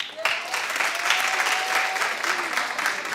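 Studio audience at a daytime talk show clapping loudly, a dense sustained wash of applause from a crowd with a few voices mixed in.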